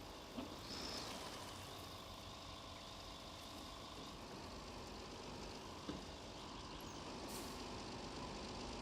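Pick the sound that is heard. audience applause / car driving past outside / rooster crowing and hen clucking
car driving past outside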